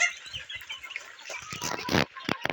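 Domestic country hens on a small Bangladeshi home poultry farm, raised without vaccines, cluck in a scattered, irregular burst of short calls, fairly close and moderately loud, with no talk over them.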